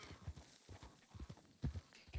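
Horse hooves clip-clop in a video game as a rider dismounts, a few faint, uneven hoof thuds on the ground with a soft background ambience and no talk.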